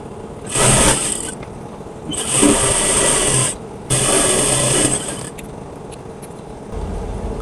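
A sewing machine stitches the folded hem of a kameez sleeve in three loud bursts of rapid mechanical whirring, each a second or so long, separated by short pauses.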